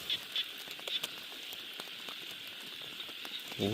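A soft, even patter of rain hisses throughout, with a few scattered drips and small ticks on top.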